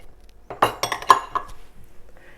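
Chopped onion tips into a bowl holding uncooked rice, making a quick cluster of light clinks and soft rattles against the bowl over about a second, near and fairly quiet, with no speech.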